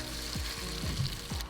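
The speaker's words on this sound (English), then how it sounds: "We got the sizzle." Steady close sizzling of bass fish frying in butter in a pan, a constant crackling hiss with a few soft low clunks.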